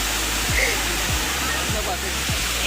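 Waterfall water gushing forcefully beside Ghatarani temple, a steady loud broadband roar with no breaks, close by, with a few low thumps through it.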